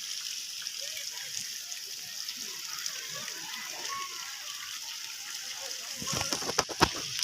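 Rain falls steadily, a soft continuous patter and wash of water, with a few louder clattering knocks near the end.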